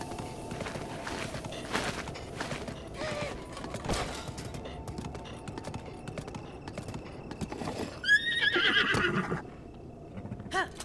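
A horse whinnying in the video game Zelda: Breath of the Wild, one loud neigh rising out of scattered hoof clip-clops and footsteps, with a few background noises around it.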